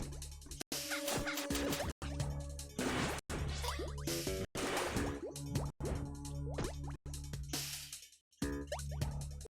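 Water drips in a dark area of the video game Shantae: Risky's Revenge, a run of short plopping drops falling at uneven intervals over a steady low game hum, with a few louder thuds mixed in.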